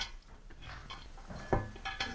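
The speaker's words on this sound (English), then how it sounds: "And also put the rice into the same pan." Uncooked rice tumbles into a metal pan already holding cooked lentils and mushrooms for a vegan wild rice pilaf, giving a few soft scattered rattles and clinks close by.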